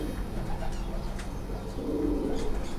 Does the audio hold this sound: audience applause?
no